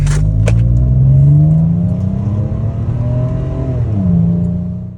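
A four-wheel-drive vehicle set in 4 high pulls away under acceleration, its loud, steady engine drone rising and shifting in pitch for several seconds with no talk over it.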